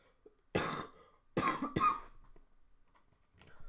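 Three harsh, dry coughs from one person break a near-silent room, the first alone and the last two close together, loud and close to the microphone.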